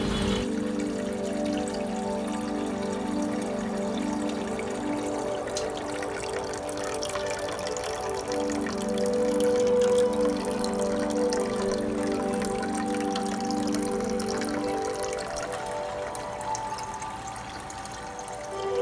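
Water trickling and splashing steadily from a SOBO WP-606H hang-on aquarium filter, with a constant low pump hum beneath, heard close and fairly quiet throughout.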